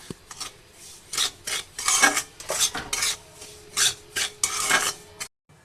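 A utensil scrapes and rasps against a pan stirring sesame seeds in repeated strokes of uneven rhythm, close and fairly loud, with no talking.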